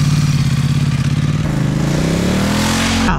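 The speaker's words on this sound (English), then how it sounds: "I love the stock sound on this bike" A motorcycle with its stock exhaust accelerates hard, loud and close, its pulsing engine note climbing in pitch through a gear change.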